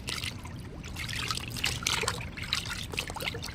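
Water trickles and splashes continuously and close by while a black saree petticoat is washed, with no voices over it.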